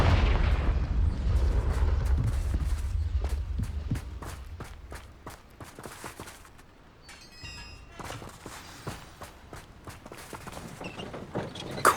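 Confringo fire spells blasting in Hogwarts Legacy on PS5, a run of sharp repeated impacts and booms over a rumbling game soundscape with footstep-like thuds, the bursts continuing steadily throughout.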